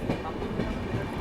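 The Bihar Sampark Kranti express train is running through Khurja Junction without stopping, heard from onboard as a loud steady rumble with rhythmic clickety-clack of the wheels.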